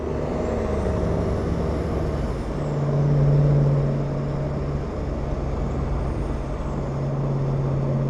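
A semi truck pulls out toward the highway, a steady low engine drone with a rising air-brake hiss and tonal whine, close and fairly loud with no talk.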